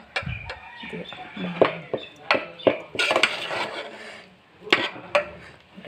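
A spoon stirs spinach masala rice in a cooking pot, giving repeated clanks and scrapes of metal in an uneven rhythm, close and fairly loud, with some background voices.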